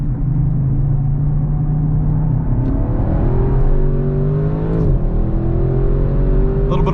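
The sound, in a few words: 2021 Audi RS6 Avant engine driven on race track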